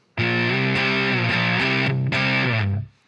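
A heavily distorted electric guitar through a 70s metal rig tone plays a short riff of sustained chords with brief breaks, dry and loud, ending in a quick fade.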